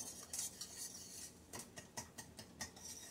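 A utensil stirring flour into a roux in a pan, with quiet rhythmic scraping strokes against the metal, about a few per second, close and soft with a faint sizzle beneath.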